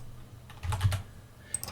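Typing a command into a Linux Ubuntu terminal on a computer keyboard, a quiet run of soft, quick key clicks near the middle, alone with no talk, ending with one faint tap.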